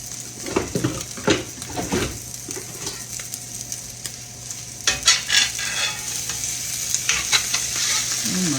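An omelette sizzles steadily in a hot pan on a home stove, with scraping and stirring sounds and a clatter of the utensil as it is flipped over, plus a low kitchen hum.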